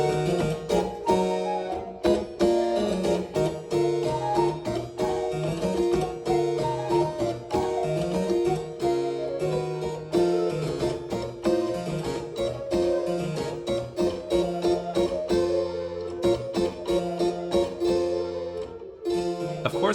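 Harpsichord continuo tuned to Baroque pitch A=415 plays a continuous run of bright plucked notes and chords at a moderate, even level for the whole stretch.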